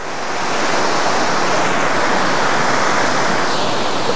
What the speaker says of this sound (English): So we're now at this spectacular waterfall.